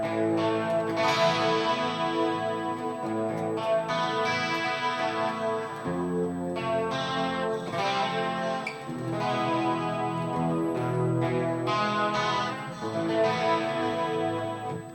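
Electric guitar through a Fernandes Monterey Elite with a sustainer, played with a light crunch overdrive tone; steady, full-bodied chords and notes ring continuously and sustain throughout, with no talking.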